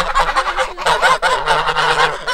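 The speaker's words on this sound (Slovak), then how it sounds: "To sú husinci. Čaute, husi." Geese honk loudly and repeatedly outdoors, a dense overlapping chorus of nasal calls from a flock close by, with no talk over them.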